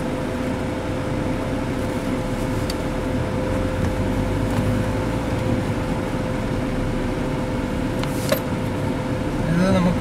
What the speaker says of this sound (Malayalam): അപ്പം നമുക്കൊന്ന് വണ്ടി ഡ്രൈവ് ചെയ്ത് നോക്കാം